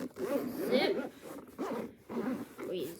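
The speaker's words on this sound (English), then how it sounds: "zip, and bam." Zipper pulled shut on a bag for massaging equipment, several short close zipping strokes in quick succession, quiet and near.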